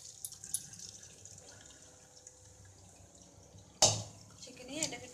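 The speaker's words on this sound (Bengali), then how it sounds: "এবার আমি চাউমিনটাকে এরকম একটা ছাঁকনির সাহায্যে, নিচে একটা আমি পাত্র রেখেছি, দিয়ে এবার ছেঁকে নেব।" Boiled chowmein noodles are poured through a strainer into a pot below, with a quiet drip and trickle of water punctuated by a sudden loud splash and clatter of pouring near the end.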